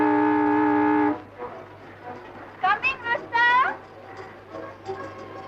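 A steady, loud car horn blares for about a second in a 1954 Bollywood film scene, then several voices talk and shout over background noise.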